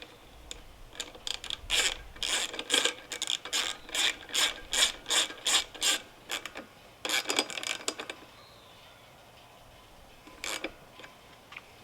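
Rapid ratcheting clicks from a wrench turning an 8mm bolt on a Toro Timemaster mower, sounding in quick bursts of strokes with short pauses, close and alone, with a few final clicks after a gap.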